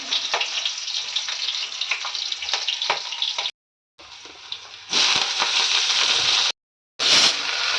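Green chilies and leafy greens frying in a pan for a Laxmi Puja meal, a steady close crackling sizzle that cuts out twice briefly and returns louder.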